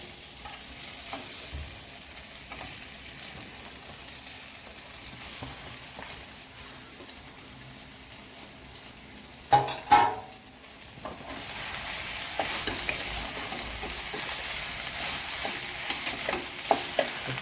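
Potatoes hit a hot pan of spices with a burst of splashing sizzle, followed by a steady frying hiss that grows brighter and fuller, with occasional stirring clinks, close and without talk.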